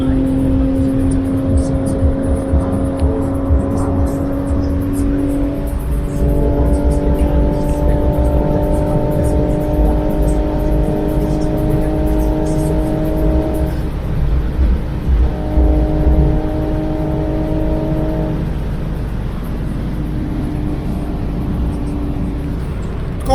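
A car accelerates hard on the German autobahn, engine tones rising through gears with brief dips at shifts, loud and close amid strong wind and road rumble inside the cabin.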